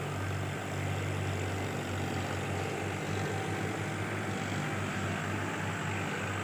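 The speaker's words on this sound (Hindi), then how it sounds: "देखिए शानदार चल रहा है खेत में ट्रैक्टर।" A tractor running in a field pocked with ruts and holes, its engine a steady low drone that stays loud and continuous throughout, with no talking.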